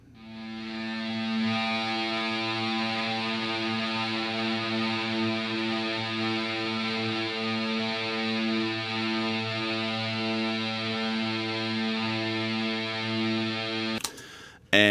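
Electric guitar played with an EBow gives a continuous, rich droning note with heavy effects and distortion, holding steady and loud for about fourteen seconds before a sudden cut and a short burst.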